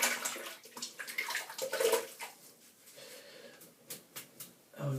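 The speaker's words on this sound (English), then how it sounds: "let me just give that a quick rinse" An item rinsed under running water, a close, uneven rush of splashing that swells and dips with short gurgling bursts, sounding alone with no voices.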